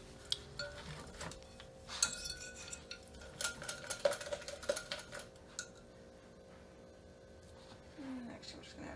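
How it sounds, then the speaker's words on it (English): A whisk or spoon clinks and scrapes against a bowl while crepe batter with eggs is mixed, irregular light taps and stirring, close but faint under a person talking. "And now is when you can take a minute and mix it good."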